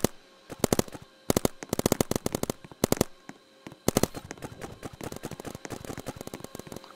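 A Tommy gun fires in the Roblox game Big Paintball in sharp full-auto bursts, several short volleys separated by pauses, then a longer continuous stream of rapid shots, loud and close.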